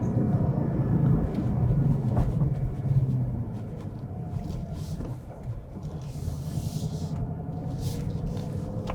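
A 2024 Ford Mustang GT engine rumbles and revs through manual gear shifts with a light clutch. A continuous low, heavy drone swells and dips as the revs change, heard from inside the car.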